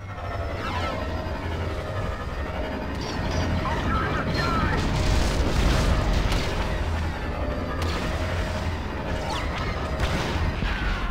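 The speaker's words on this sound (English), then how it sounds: "Their ship guns are pounding our shields." In Star Wars Battlefront II, enemy ship guns pound shields during a battle, producing dense, continuous rumbling booms and blasts layered with mechanical roar and voices.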